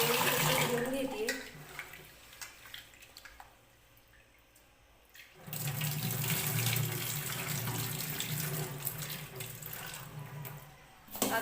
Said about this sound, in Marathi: स्वच्छ 2-3 पाण्याने हा तांदूळ धुवून घेते